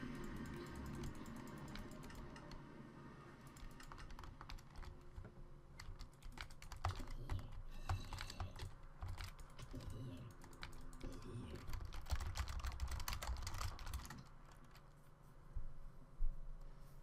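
Steady, rapid typing on a computer keyboard clatters throughout, dense clicks of keys in an irregular rhythm, moderately close, with no talk over it.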